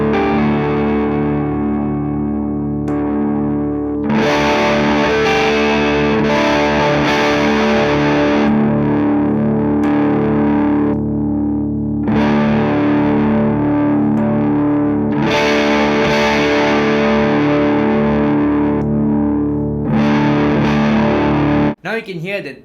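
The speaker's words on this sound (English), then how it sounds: "Now you can hear that the gain 1 knob is something that really alters the character of the overall distortion." An electric guitar plays through a Ceriatone Son of Yeti hot-rodded plexi amp, with the gain 1 knob shaping a thick, loud distortion; sustained chords and riffs ring in bursts separated by brief gaps, ending in an abrupt cut.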